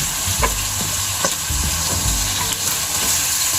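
Ginger and tomato sizzle and fry in a searing-hot karahi wok, a steady loud crackle with occasional stirring scrapes and clinks throughout.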